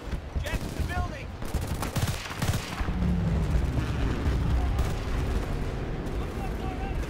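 Heavy explosions and rattling gunfire from the shooter game Battlefield Bad Company 2 roar continuously, with sharp bursts early giving way to a dense, rumbling barrage of blasts.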